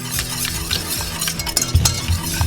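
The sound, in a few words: whisking Grey Poupon mustard into cowboy butter sauce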